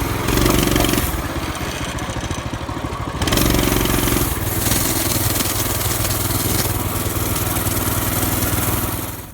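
Honda CT200U motorcycle engine starting cold on choke in the mountains: a close, loud engine catches and settles into a steady running idle with slight surges, alone without talk.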